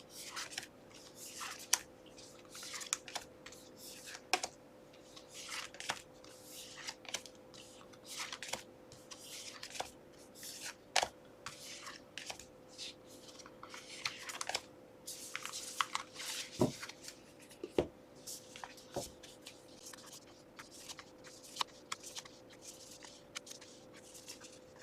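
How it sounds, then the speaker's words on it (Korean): Tarot cards are shuffled and drawn, giving quiet, soft rubbing and light snapping card sounds in irregular bursts, alone and close. "카드 뽑을게요."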